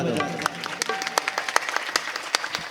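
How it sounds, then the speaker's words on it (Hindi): Live audience at a Chhattisgarhi devotional singing programme claps in honour of the Ankita Sound operators, a short burst of scattered, uneven handclaps with some crowd noise, fairly close. "एक बार साउंड वाले के सम्मान में जोरदार ताली बजा दो"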